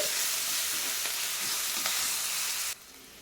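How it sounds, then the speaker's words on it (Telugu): Ginger garlic paste frying in a pan for a curry gives a loud, dense, close sizzle that holds steadily and then drops off sharply near the end, with a few light stirring clicks and no talking. "ఈ అల్లం వెల్లుల్లి పేస్ట్ కూడా వేసుకొని బాగా వేగనివ్వాలి"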